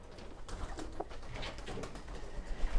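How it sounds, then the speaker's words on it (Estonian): Pigeons coo softly at an indoor nature centre where they are kept and flown daily, low, faint murmuring calls set against steady background noise. "Ja niimoodi tuvid lendavad peaaegu iga päev natuke."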